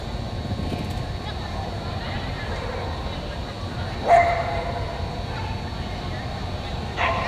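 A border collie yips and barks at an outdoor agility speedstakes event, short sharp barks standing out now and then over a steady hum of crowd noise and commentary.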